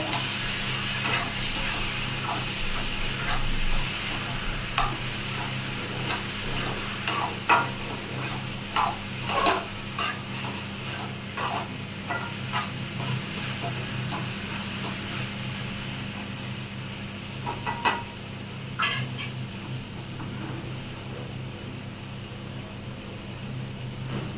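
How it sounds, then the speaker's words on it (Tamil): Vegetables sautéing in a pan with onion and tomato for a simple kara kuzhambu, a continuous soft sizzle and hiss with intermittent stirring scrapes, close and steady throughout. "காய் வெங்காயம் தக்காளி எல்லாமே சேர்ந்து நல்லா வதங்கிடுச்சு."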